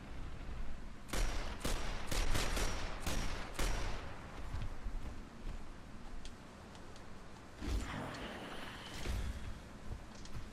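Rapid bursts of gunfire from a sniper pistol in Gears of War, a cluster of sharp, loud shots followed by a quieter stretch and a few more shots, over a steady game background.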